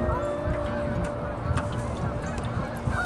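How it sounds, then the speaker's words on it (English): A busy chorus of geese honking from large flocks on meadows by a river in fall, overlapping calls from a distance over steady outdoor background noise. "Geese are really active today."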